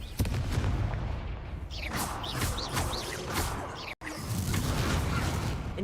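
Fiery Confringo spell blasts in Hogwarts Legacy during a tournament duel: a dense run of booms, cracks and whooshes layered over constant game noise, loud and close, with one sudden cut near the end.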